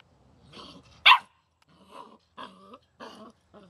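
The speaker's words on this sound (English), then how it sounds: "I'm just going to bark." A 10-week-old puppy barks indoors in a few short, sharp yips and bow-wows, one loud bark followed by softer, spaced barks close to the listener.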